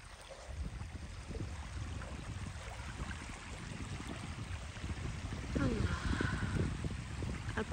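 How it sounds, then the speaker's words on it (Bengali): Water laps and washes along an empty, lonely beach, a soft continuous wash with swishing surges that grow slightly louder toward the end, heard close and fairly quiet. "আর পানির শব্দটা এই একা একা বিচে এত ভালো লাগছে"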